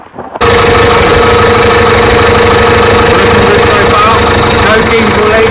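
A DAF LF truck's diesel engine, just fitted with a new fuel pump, fires up after a brief quiet start and settles into a loud, steady idle with a constant drone and slight mechanical rattle.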